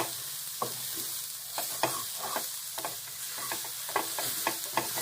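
Protein snack dry-roasting in a pan, a steady faint sizzle broken by repeated scraping stirs and light clinks of the spoon against the metal, close and alone without any voices.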